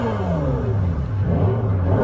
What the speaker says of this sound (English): The sound of the car when you put it into E-shift mode,